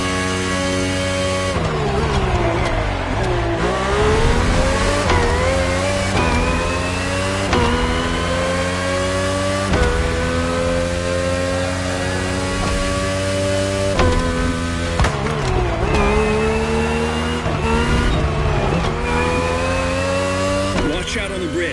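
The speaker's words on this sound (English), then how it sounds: "RB18 is the latest model, with more aggressive aerodynamics and a powerful Honda engine." A Red Bull RB18 race car with a powerful Honda engine in the video game The Crew Motorfest, its engine note steady and loud throughout with repeated rises and shifts in pitch, layered under other game sound.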